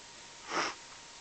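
A single short sniffle from someone coming down with a cold, heard alone and close against a quiet indoor background.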